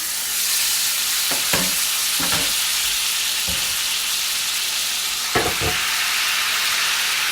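Steak searing in a hot pan gives a loud, continuous close sizzle with a few scraping knocks as the meat is moved, and no talking.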